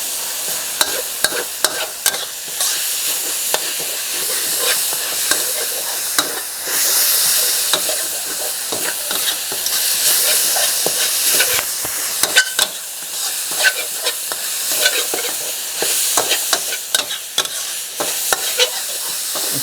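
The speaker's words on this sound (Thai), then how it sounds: "ผัดไปเรื่อยครับ" Minced pork stir-fried with holy basil and dried chili in a hot pan: loud, steady sizzling and hissing, broken by frequent scraping and clattering stirs, with no voices.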